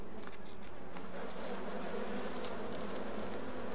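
Honey bees buzz steadily at an open hive during feeding with heavy syrup and protein patty, a dense, continuous swarm drone close by with no talking.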